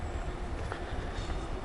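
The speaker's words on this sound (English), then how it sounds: "Another train." A train rumbles past on a city railway in Brussels, a steady low roar close by with faint wheel clatter and no voices.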